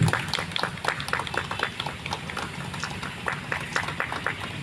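An audience claps at the launch of a national pulse polio rally: a dense, steady patter of many hands applauding together, fairly close and sustained, with no talk over it.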